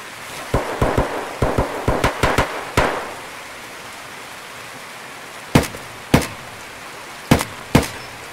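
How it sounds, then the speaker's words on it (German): Gunshots in the Escape From Tarkov shooter game on the Customs map, with a quick volley of sharp cracks followed by a pause and then four scattered single shots, loud against a steady hiss. "in der Halle wird auch schon geschossen"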